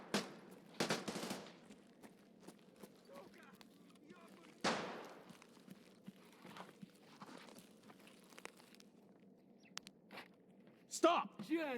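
Sharp bursts of gunfire in the video game Escape from Tarkov ring out in scattered clusters, with rapid volleys near the start and again at the end over a low background rumble.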